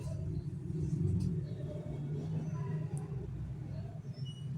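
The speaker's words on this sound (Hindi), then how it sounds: "बैकग्राउंड में जो ये शोर है गाड़ियों का" Low, steady rumble of road traffic from passing cars and vehicles, a continuous background drone heard indoors at a sewing and stitching setup, with faint voices mixed in.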